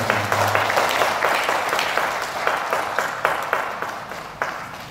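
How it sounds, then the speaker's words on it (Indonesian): An audience at a cultural oration event in Karawang gives steady applause, a dense crowd of clapping hands sustained for several seconds, moderately distant with no speech over it. "Tepuk tangan untuk Bapak Ibu."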